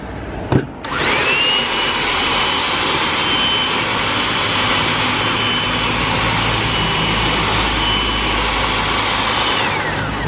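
A Makita handheld power tool, a Japanese domestic-market model, starts with a brief thump and then whirs at a loud, steady high-pitched whine close by for the rest of the clip.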